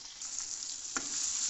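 Egg and tomato bhaji frying in a pan gives a steady, soft sizzle with a brief scrape or stir near the middle, close and quiet with no voices.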